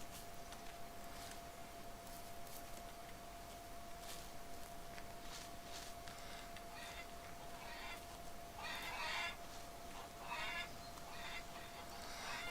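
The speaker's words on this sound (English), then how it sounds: "Yeah, those are chickens. And we got a rooster and we got chickens." Chickens and a rooster on a farm in the video game Farmer's Dynasty 2, faint scattered clucks and calls over a steady low hum, with an occasional louder burst near the end.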